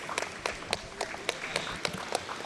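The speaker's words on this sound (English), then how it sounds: "Let's give a big round of applause" An audience applauds at a spring cattle show arena, scattered sharp claps ringing out fairly faintly against a quiet background, with no voices over them.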